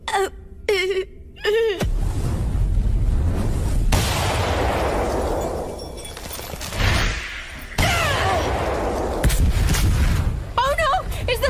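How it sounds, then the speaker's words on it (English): A building exploding in an English-dubbed anime, with deep, sustained rumbling blasts and crashing debris that come in several heavy waves, mixed with excited voices and cries. "Oh no! Is the building exploding?"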